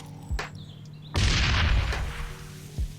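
A grenade explodes in a Source Filmmaker animation, a loud boom with a sustained rumbling roar lasting about a second, framed by smaller thumps before and after.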